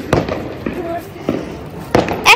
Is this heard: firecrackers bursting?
yes